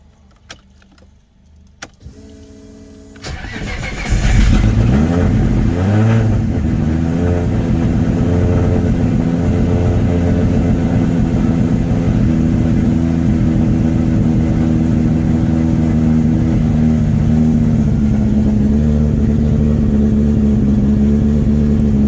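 A tuned car engine warming up: after a few faint clicks it fires at about four seconds and settles into a loud, steady, slightly lumpy idle that holds for the rest of the clip, close by with no speech.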